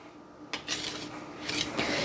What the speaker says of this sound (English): I'm just adding all the dry ingredients together, and I'm going to fold them into my egg white mixture